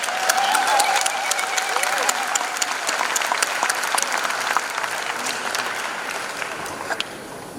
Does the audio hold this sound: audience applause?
yes